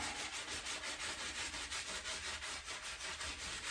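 Steady rhythmic scrubbing of a dug glass bottle caked in years of buried dirt and grime, a rough, even back-and-forth rubbing that stays close and continuous throughout with no talk.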